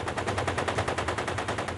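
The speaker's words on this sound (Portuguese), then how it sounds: "tiros são disparados próximo ao palácio" Rapid automatic gunfire near the presidential palace in Haiti under François "Papa Doc" Duvalier, a dense, continuous burst of shots loud and close with no pauses.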